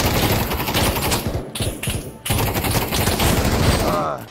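Loud, close bursts of rapid automatic gunfire in the VR shooter Pavlov VR, with brief pauses between volleys and a dense, clattering rhythm throughout.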